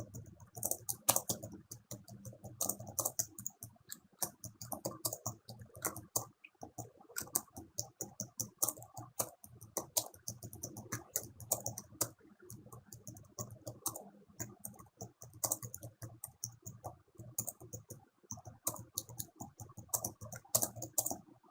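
Continuous typing on a computer keyboard, fast irregular clicks and key taps at a steady close-up level, with short pauses between bursts and no one talking.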